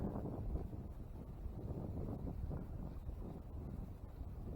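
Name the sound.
wind blowing outdoors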